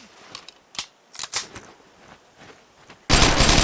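Gunfire from Brothers in Arms: Road to Hill 30, set on Utah Beach against German troops. Scattered sharp shots crack at a distance before a loud, dense close-range burst erupts at the end.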